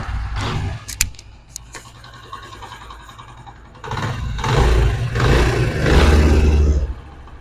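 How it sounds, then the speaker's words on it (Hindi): A repaired Honda CD 70 motorcycle engine, with its connecting rod and crankshaft fixed, runs with a low, steady rumble that swells louder partway through and stays strong to the end. No one speaks. "तो आप बाइक का साउंड देख सकते हैं।"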